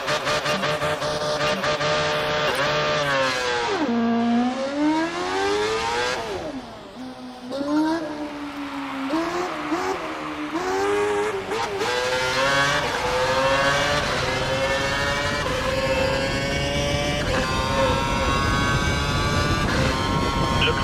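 An F1 race car in the video game F1 2012 accelerates hard out of a hairpin, its loud, high engine note rising and falling through gear changes and climbing steadily along the straight.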